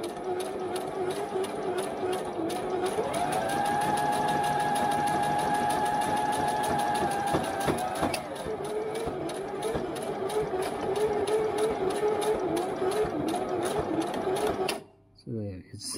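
A household sewing machine stitches through thick webbing straps for hammock tree straps, its steady motor hum and rapid needle ticking running continuously and fairly close, slowing briefly near the end, with a voice speaking over it.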